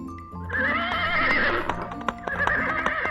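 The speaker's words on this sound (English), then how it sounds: "If you guessed horses, you are right." A horse whinnies loudly and close, its shaky neigh rising and falling, with hooves clopping and knocking underneath.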